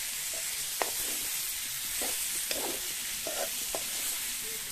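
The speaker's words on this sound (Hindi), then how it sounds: "अब हम सारे मसाले में आलू को अच्छे से मिक्स कर लेते हैं।" Boiled wild potatoes stirred into frying spices for a rustic vegetable dish, a continuous close sizzle broken by several spoon scrapes against the pan, with no talking.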